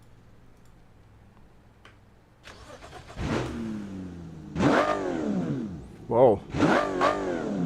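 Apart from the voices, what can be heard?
inline six car engine starting and revving, Automation video game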